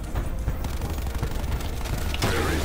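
Rapid gunfire in Call of Duty Black Ops 4 Zombies, a dense, loud run of shots with heavy low thumps that carries on steadily for the whole short burst.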